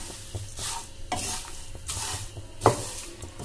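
Paper avalakki chivda being stirred in a pan, dry crisp flakes scraped and tossed in repeated rhythmic strokes over a soft sizzle, close and clear with one sharp metallic clink of the spoon.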